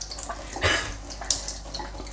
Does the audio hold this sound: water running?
yes